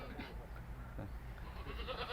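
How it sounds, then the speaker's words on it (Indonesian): A mother goat with three newborn kids makes faint, low bleating calls in a quiet farm setting, with soft background rumble. "Anaknya ada tiga ekor kambing."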